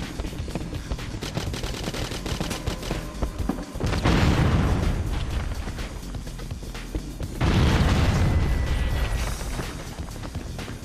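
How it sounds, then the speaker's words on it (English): Proximity mine explosions in GoldenEye on the Wii come as two heavy booms that rumble and decay over several seconds, set against steady gunfire and game action throughout. "proximity mine"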